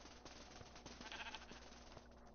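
Sheep in Minecraft bleating in a short, faint burst over quiet game background.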